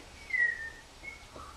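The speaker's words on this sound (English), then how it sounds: "I love to whistle" Faint, high whistled notes from a performer playing the bird Margalo in a Stuart Little stage musical: one longer sliding tone, then a shorter softer one, heard against quiet stage ambience.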